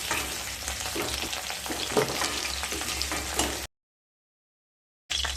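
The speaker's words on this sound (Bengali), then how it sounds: "আলু আর সজনে ডাঁটা হালকা ভাজা হয়ে গেছে।" Potatoes and drumstick pieces sizzle and crackle in hot oil as they are stirred, a dense steady frying sound that cuts to silence briefly near the end before resuming.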